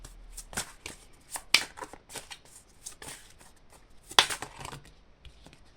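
Tarot cards shuffled by hand at close range, a series of soft riffling and slapping bursts with two sharper snaps, heard alone without speech.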